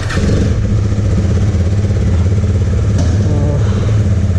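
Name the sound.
Husqvarna Svartpilen 250 motorcycle engine riding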